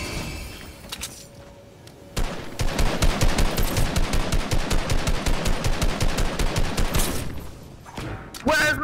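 Rapid automatic gunfire from a video game bursts out in a loud, sustained fusillade of evenly spaced shots lasting several seconds, preceded by a quieter lead-in and ending with a few scattered clicks.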